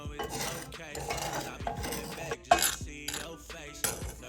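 A utensil stirs sugar caramelizing in a pan over low heat, making scraping and rubbing sounds with a few sharper knocks against the pan, accompanied by music or other tonal sound.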